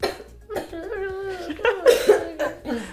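A few short, harsh coughs from someone close by, with a whimpering, yelping quality between bursts.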